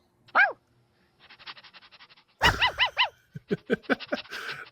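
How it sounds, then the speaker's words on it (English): Several small dogs bark and yap in quick, shrill bursts, one yelp first, then a flurry of sharp barks at moderate distance. "The dogs are barking."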